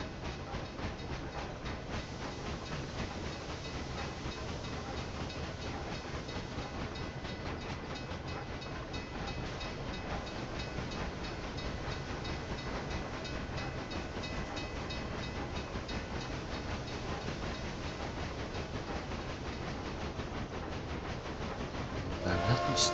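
Trains rolling through a Railway Empire game world, a steady continuous rumble and hiss of rail traffic filling the whole stretch, fairly quiet in level with no pauses and a small burst right at the end.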